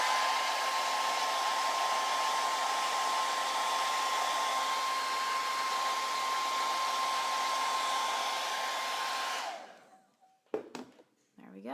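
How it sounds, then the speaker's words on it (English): A hair dryer blows steadily and loudly while drying lash extensions, a continuous whooshing roar with a high whine, running for about nine and a half seconds before it cuts off and is followed by faint handling noises. "Blow dry all the extras."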